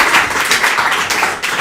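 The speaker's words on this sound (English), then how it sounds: "So I just really want to salute you, Chairman, and just really give you a round of applause." Audience applause at a national political convention, dense steady clapping from many hands sustained throughout without a break, no voices over it.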